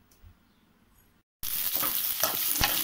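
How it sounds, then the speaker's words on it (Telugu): Onions and spices frying in plenty of oil for a bitter gourd curry, a loud steady sizzle that bursts in abruptly after a quiet moment, with a few stirring clatters. "ఇలా తర్వాత అన్ని వేసుకొని వేయించుకోవాలి కొంచెం ఆనియన్ ఎక్కువనే ఉండాలి ఆయిల్ కూడా కొంచెం ఎక్కువనే ఉండాలి"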